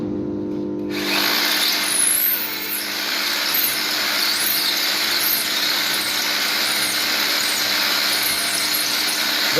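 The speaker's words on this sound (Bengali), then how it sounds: "ফাউন্ডেশনের জন্য ড্রিল চালানো হয়েছে।" A power drill bores steadily into a foundation during factory electrical work, a loud, continuous whine and grind that starts abruptly after a second of quiet and runs unbroken to the end.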